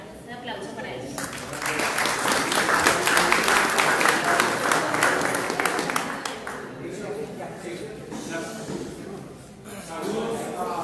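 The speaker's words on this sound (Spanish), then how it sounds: "Un aplauso para ellos" Audience applause at a Colombia Humana leadership forum in Engativá, a sustained round of clapping from a seated crowd that swells, holds, then tapers, with voices mixed in beneath it.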